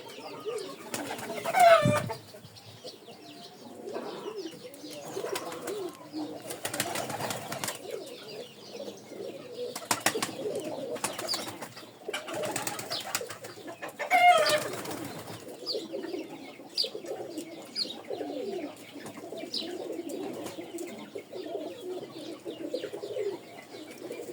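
Pigeons coo repeatedly at close range, soft low calls in irregular bursts with occasional wing flaps and rustling, and no talk over them.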